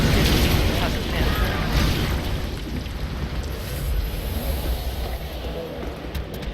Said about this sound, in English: the game just gave us some fire bombs, so let's try them out